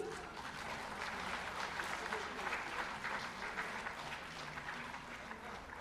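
Continuous applause from a crowd at a ceremony, a dense even patter of clapping filling the whole stretch with faint voices underneath.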